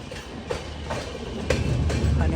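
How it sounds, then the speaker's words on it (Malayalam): A Humsafar Express train rolls into Hanumangarh Junction station, its wheels beating a steady clickety-clack rhythm over rail joints with a low rumble building underneath, close and fairly loud. "എക്സ്പ്രസ് എത്തിക്കൊണ്ടിരിക്കുകയാണ്"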